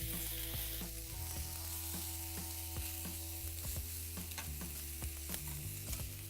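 Lamb lollipops searing on cast iron over a grill, a soft steady sizzle with repeated light clicks and taps of tongs or a utensil, fairly quiet and close, no voices.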